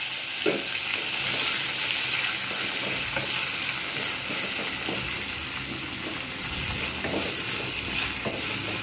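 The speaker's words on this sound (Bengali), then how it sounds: "পেঁয়াজটাকে একটু হালকা করে ভেজে নেব" Steady sizzling of onions frying lightly in a pan, with scraping stirring strokes now and then, close and continuous, no talking.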